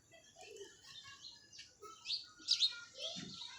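Pigeons (Chapra breed) calling in a small group, with soft chirps and brief fluttery bursts coming and going, moderately near and fairly quiet.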